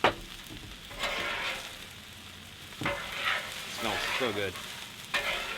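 Venison stir fry sizzles in oil on a Blackstone griddle, a steady close frying hiss swelling as a spatula scrapes and tosses the meat in a few bursts, with a brief spoken remark.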